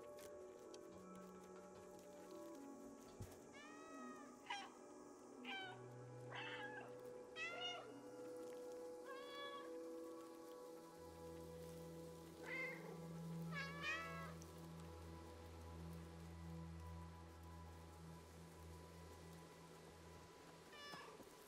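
A cat meows repeatedly in the video game Stray, bright rising calls scattered over a steady low synth hum and ambient rain patter, with no talk over it.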